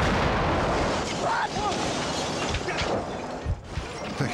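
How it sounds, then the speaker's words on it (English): A huge explosion in a dramatized reconstruction, heard as a loud sustained roar and rumble that slowly fades, with scattered debris crackles and no clear voices. "The huge explosion knocked Fallon and her mother to the ground."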